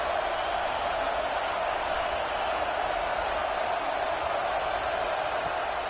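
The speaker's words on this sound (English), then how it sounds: "Listen to this crowd just shaking the girders of this place trying to help their defense." Stadium crowd in the college football video game NCAA 26 roars in a steady, dense wall of cheering that holds constant throughout, loud and enveloping, with no distinct voices standing out.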